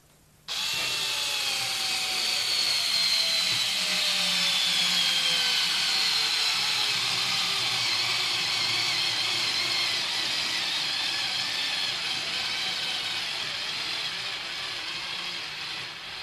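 A Parkside Flashcharge cordless screwdriver from Lidl driving a screw, one long continuous whirring motor run of about fifteen seconds that starts abruptly and slowly drops in pitch as it labors toward the end, loud and close, no talking.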